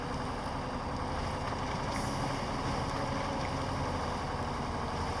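A diesel truck engine in the off-road driving game Mudrunner hauls a log trailer with all-wheel drive and diff lock engaged, giving a constant, dense, low rumbling drone with no pauses and no talk.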